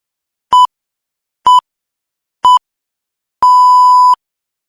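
Three short electronic beeps from a water filter backwash timer, evenly spaced about a second apart, followed by one longer sustained beep, clear and alone with no other sound.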